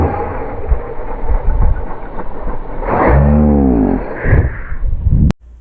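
An Arrma Outcast 6S RC car accelerates hard outdoors, its electric motor whining and rising in pitch during a loud, rough-surface run that ends abruptly.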